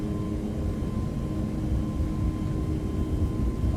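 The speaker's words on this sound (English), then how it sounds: "Takeoff thrust set." Airliner jet engines at takeoff thrust in a flight simulator on runway 26 at Catania, a steady, loud broadband roar with a faint whine, continuous throughout with no talk.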